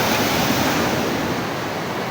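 Sea waves wash loudly and continuously onto the shore, a dense roar of surf mixed with wind rush that fills the whole moment.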